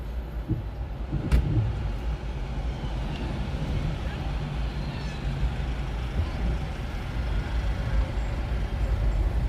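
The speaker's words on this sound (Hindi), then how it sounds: "ये देखें ट्रक भी आया" A truck pulls into the truck stop at Watford Gap Services on the M1 motorway, a steady, loud, low rumble of heavy engines and traffic that continues throughout, with a brief sharp knock near the start.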